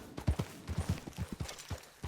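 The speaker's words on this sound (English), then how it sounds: "those are horses" Horse hooves clip-clopping in a hunting video game, a steady run of roughly a dozen close, moderately loud hoof falls over a little more than two seconds, with no talking.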